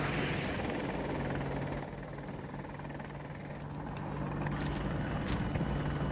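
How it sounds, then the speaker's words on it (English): Battlefield 2042 helicopter whirring steadily throughout, a continuous rotor and engine drone at moderate level, with a faint sharper burst near the end. "Chopper right here. Helo marked!"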